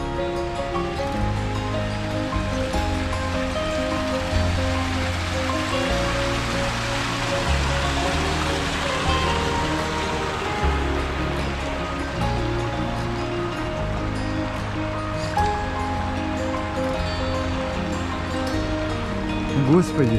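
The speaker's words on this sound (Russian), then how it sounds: "Как мне нравится вот этот водопадик." A small waterfall at a well on a dacha splashes in a steady, continuous rush of falling water close by, with a person talking over it.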